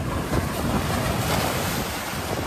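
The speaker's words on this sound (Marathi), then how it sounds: "बघा याच्या आतमध्ये ना पाणी येतंय बघा।" Sea waves wash continuously into the rocks at Rock Garden, Malvan, a loud, unbroken roar of surf with wind buffeting nearby.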